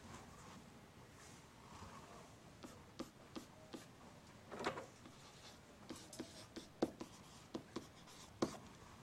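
Pen strokes scratch across a paper graph while plotting points for a math example, with a steady run of short, quiet scribbles and several sharper taps and ticks, close up and without speech.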